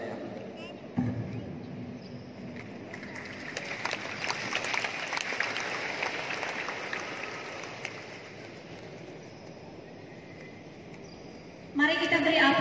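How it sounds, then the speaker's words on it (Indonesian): An audience at a doctors' oath ceremony at Universitas Cenderawasih claps in a sustained, dense patter of applause that swells and then tapers off before music or voices return. "Mari kita beri aplaus sekali lagi untuk 20 di hari ini"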